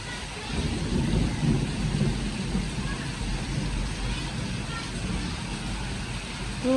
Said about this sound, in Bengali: আর বৃষ্টির সাউন্ডটাও আমি আপনারা রেখে দিয়েছি